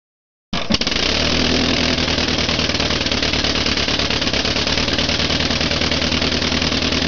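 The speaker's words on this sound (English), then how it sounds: "This is an animated computer drawing of one cylinder of the Wright brothers 1903 aircraft engine" After a moment of silence, a Wright brothers 1903 four-cylinder aircraft engine starts and runs at a loud, steady, even idle with rapid close firing pulses, without voices.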